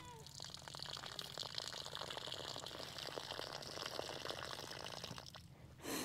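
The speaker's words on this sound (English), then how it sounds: "I'm gonna pour the excess water out." Excess water is poured out of a sediment sampling tube in a steady, faint splashing trickle that runs for several seconds and ends with a brief louder gush.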